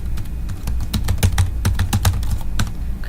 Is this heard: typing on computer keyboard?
yes